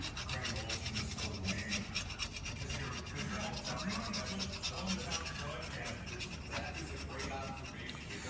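Old residue being scrubbed off a car wheel rim during a tyre change on an RX8, repeated rough rubbing and rasping strokes at close range, fairly quiet, with faint voices in the background.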